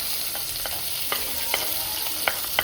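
Chopped onion frying in a pan gives a steady, close sizzling hiss, broken by a handful of sharp scraping clicks as a spoon stirs it, with no voices.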